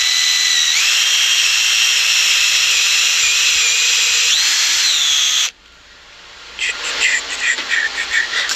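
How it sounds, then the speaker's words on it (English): A power drill whines steadily and loudly for about five seconds while boring a hole, its pitch shifting slightly near the end. It cuts out abruptly, and a rougher, rattling grind follows after a short gap. "and then I can drill this hole"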